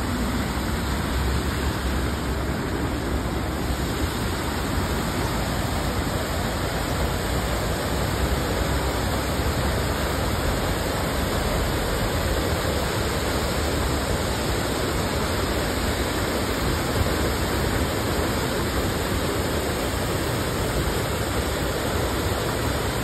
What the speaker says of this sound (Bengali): প্রথমে আমি আপনাদের সাথে ঝর্ণাটা শেয়ার করি। খুব সুন্দর ঝর্ণাটা